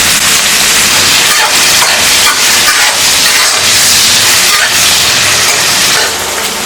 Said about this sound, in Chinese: 这个放下去爆香一下。